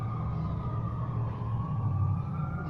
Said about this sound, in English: I hope you don't hear the stupid ambulance that doesn't let me record.